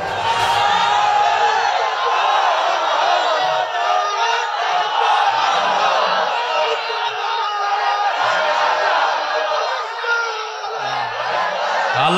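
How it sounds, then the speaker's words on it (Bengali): A large crowd at a Bangla Islamic sermon gathering roars a sustained, loud collective chant of takbir, voices massed together and continuous throughout with slight surges. "দাও তাকবীর দাও"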